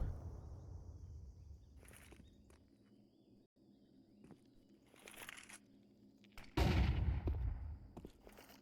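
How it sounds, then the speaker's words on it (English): In a Counter-Strike match, a flashbang grenade goes off amid quiet in-game movement. Several sharp bursts are scattered across the moment, with the loudest, fullest one coming near the end, and no one speaks. "That's the flashbang to Gravity alone."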